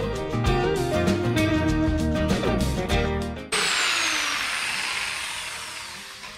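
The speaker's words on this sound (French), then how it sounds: "il va falloir percer le plan de travail" A power drill bores through a kitchen worktop in a VW T4 camper van conversion, a loud close whine with pulsing bite, then a brief cut and a smoother, rougher grinding continuation that slowly fades.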